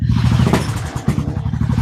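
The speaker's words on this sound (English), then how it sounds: "Wait, who just fucking started a motorcycle?" A single-cylinder motorcycle engine sputters to life nearby with rough, pulsing low revs and some clattering, running steadily for a couple of seconds.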